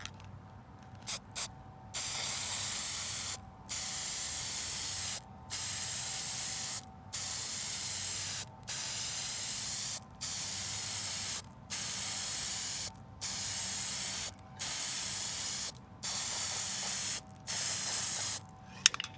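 Another coat of spray paint applied in a steady rhythm of about a dozen loud, even hissing bursts, each roughly a second long with brief clicks and gaps between them, close and alone.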